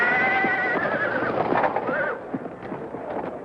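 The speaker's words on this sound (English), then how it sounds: "who's that black horse acting up?" A black racehorse at a starting gate neighs loudly in a long, wavering whinny, followed by a shorter second call, with crowd and track noise underneath and a few hoof clops.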